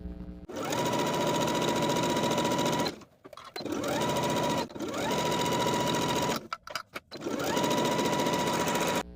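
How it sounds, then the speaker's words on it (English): A home sewing machine stitches a skirt seam in three long, steady runs of rapid whirring, separated by short pauses with clicks as the fabric is adjusted. "Sew or serge all the way around with a 3/8 inch seam allowance, and if you're using your regular sewing machine"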